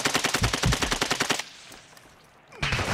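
Automatic gunfire in the shooter game Warzone DMZ, a loud rapid burst of evenly spaced shots, then a brief quiet gap before firing resumes.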